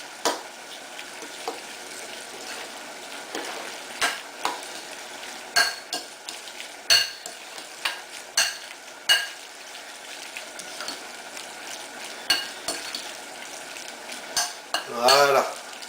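Crab mixed into leftover mayonnaise in a bowl with a spoon, giving a run of wet squelches and clinks against the bowl, irregular and close, with no talking.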